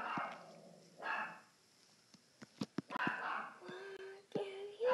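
A pet dog barks in several sharp, close yips and bursts, with a person speaking loudly over and between the barks in a home setting.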